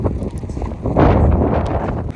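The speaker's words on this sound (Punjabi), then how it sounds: "ਠੰਡੀ ਠੰਡੀ ਹਵਾ ਚੱਲਦੀ ਆ" Gusts of wind rush past close by, swelling in the second half with a low rumble and buffeting.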